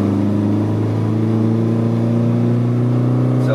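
A 1983 Volkswagen Rabbit GTI engine pulls hard under acceleration while driving, a loud steady mid-pitched drone with rising harmonic whine filling the whole stretch, no talking.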